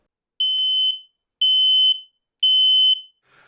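Smoke detector alarm being tested, giving three loud, piercing high-pitched beeps in an even rhythm, each about half a second long, with short silent gaps between them.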